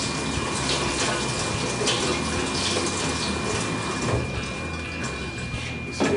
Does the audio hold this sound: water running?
yes